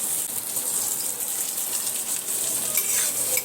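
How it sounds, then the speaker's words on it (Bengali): Potato and bitter gourd slices fry in oil at home, giving a continuous close, bright sizzle with some stirring, steady and loud throughout with no talk over it. "পটল ভাজা আর এই আলু উচ্ছে ভাজা করছি"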